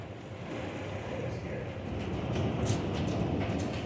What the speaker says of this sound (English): quickly escalated into a heavy rain with light hail